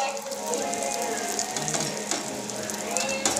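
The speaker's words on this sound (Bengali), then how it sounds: "দিয়ে আবারও পাউরুটিটা দিয়ে আমি একে ভালো করে ভেজে নেব।" Egg-dipped bread slices fry in a pan with a continuous, dense sizzle and crackle close by, faint clicks and scrapes running through it.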